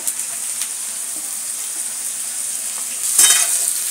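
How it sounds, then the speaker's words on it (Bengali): Carrots fry with onions in a hot pan, giving a continuous soft sizzle that swells into a louder, brighter burst of stirring and spitting oil near the end. "এইবারে এই পেঁয়াজের মধ্যে আমি গাজর পুরো দিয়ে দেবো।"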